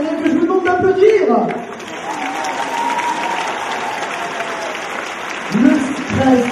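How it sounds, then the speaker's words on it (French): Audience applause for contestants at the Miss Orléanais 2014 pageant, sustained crowd clapping that swells under a host's speech and continues after it ends. "vous venez de découvrir les 14 prétendants du titre de Miss Orléanienne que je vous demande d'applaudir"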